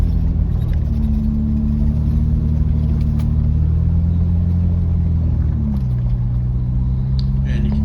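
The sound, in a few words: 4WD vehicles (FJ, Prado, GU Patrol) driving on bush track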